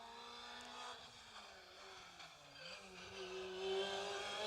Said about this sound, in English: Car 113 is Tom Considine and Tony Walker in the Opel Adam Rally 2